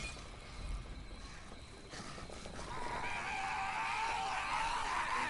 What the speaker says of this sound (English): they're just all simultaneously like, screaming at once